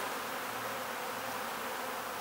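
Dense, continuous buzzing of many honey bees around honey frames during extraction, steady and close with no pauses.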